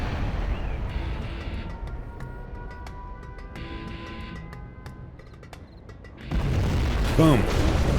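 A nuke strikes in a real-time strategy game, a low rumbling boom swelling near the end over a steady mechanical game hum, with commentators talking.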